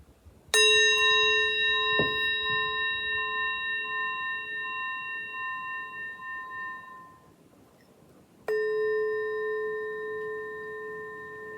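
A singing bowl struck with a wooden mallet rings out twice: a single struck tone with clear sustained overtones decays slowly over several seconds, then a second strike starts a fresh, equally bright ring; a soft knock comes between them.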